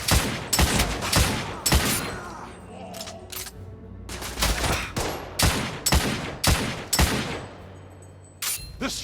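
Gunfire in The Order 1886 on PS5, with loud close bursts of shots, volleys and sharp cracks in quick succession, separated by short gaps, with game voices in between.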